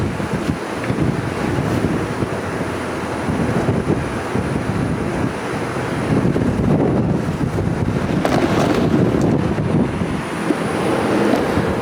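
Strong gusty wind buffets the microphone outdoors in a steady, loud roar for the whole stretch, rising in a heavier surge near the end, with no one talking.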